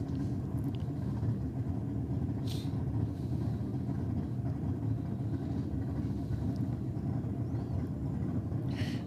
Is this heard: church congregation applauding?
no